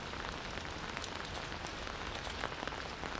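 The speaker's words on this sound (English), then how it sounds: "The rain was stopping." Rain sound effect in an apocalyptic audio story, a dense steady hiss of drops pattering on a surface, even and unbroken throughout with no voices.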